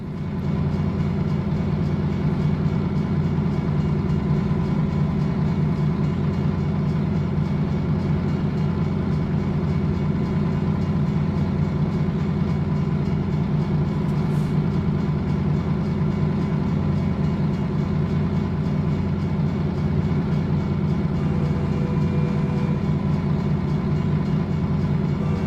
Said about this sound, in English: And now we've got to wait for the train.